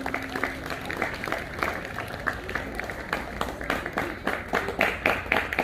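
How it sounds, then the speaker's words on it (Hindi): Audience applause at a school Republic Day ceremony, irregular clapping from a crowd, uneven and a little distant, with some scattered sharper claps standing out. "जोरदार तालियां रामवीर जी के लिए।"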